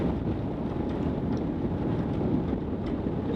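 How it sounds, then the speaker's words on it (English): A sailboat motor sailing in a 16-knot breeze on Moreton Bay, a steady low drone of engine and wind rumble with soft wind buffeting on the microphone, constant and unbroken with no talk. "Bit of motor sailing. 16 knots of breeze here."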